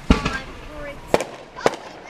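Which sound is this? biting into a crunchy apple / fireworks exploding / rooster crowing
fireworks exploding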